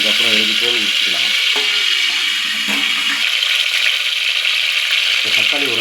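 Tomatoes fry in oil over a low flame with a steady close sizzle, while a voice talks over it at intervals.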